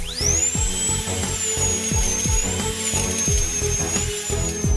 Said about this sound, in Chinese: 为了穿透坚硬的牙槽骨，医生调高了钻头速度